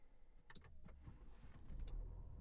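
A few faint mechanical clicks, then a low engine rumble swells as a Volvo P3 car starts up by its start button, quiet and close.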